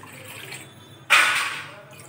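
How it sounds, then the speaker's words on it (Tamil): Two tumblers of water pour into a pot for palm jaggery coffee, a sudden loud splashing gush that starts abruptly and tapers off over about a second, following a quiet stretch. "இதுல 2 டம்ளர் தண்ணி ஊத்திக்கிறேன்"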